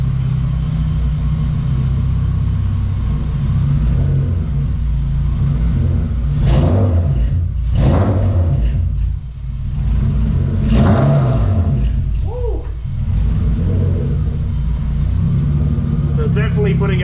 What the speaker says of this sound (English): Idling a little low it seems, but it doesn't sound like it's idling low.